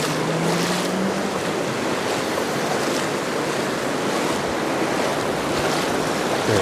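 Sea waves wash over a shallow sandy beach in crystal-clear water at very low tide, a steady broadband surf wash that stays close and continuous, with some wind buffeting the microphone.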